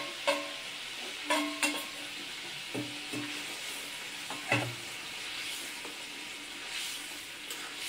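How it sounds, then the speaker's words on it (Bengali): Fried fish dropped into boiling fish curry gravy in a home kitchen pot, giving a steady bubbling sizzle broken by several sharp clattering stirs and knocks near the start and middle. "দেখো বন্ধুরা ঝোল টকবক হয়ে ফুটছে। এবার আমি ভাজা মাছটা ঢেলে দেবো।"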